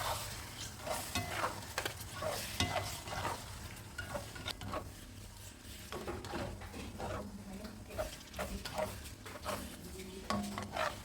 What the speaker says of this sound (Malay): kemudian kacau-kacau sehingga sebati